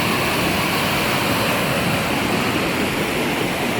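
A small river waterfall below a pedestrian bridge, on a river emptying into Lake Superior, pours as a steady, loud, close rushing roar with no break.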